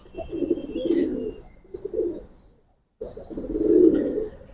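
Deep, rolling coos from a Giribaz pigeon come close and clear in two long bouts, with a short pause and a brief silence between them.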